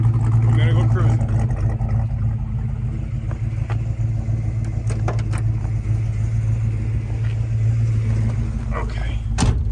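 A classic convertible car from a fleet of late-1960s cars such as a '67 LeMans pulls away for a cruise, its engine a steady low rumble throughout with occasional clunks, while people talk over it.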